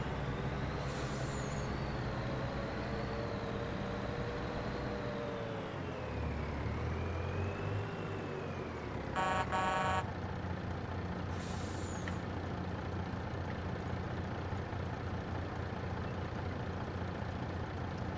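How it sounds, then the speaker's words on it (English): A small Volvo truck idles steadily in the Farming Simulator 22 video game, with a low engine drone throughout and a sharp hiss of air brake release partway through, alongside a brief beeping burst. "This is the small Volvo truck here."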